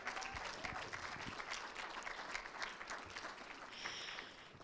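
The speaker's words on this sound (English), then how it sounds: "I just want to give you a proper round of applause as you come up." A round of applause from an audience at a Tribe Night gathering as people come up on stage, loud continuous clapping from a large crowd with faint cheering mixed in.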